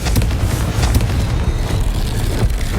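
A Confringo fire spell explodes in Hogwarts Legacy, a loud, dense rumbling blast filling a short stretch with no clear separate hits.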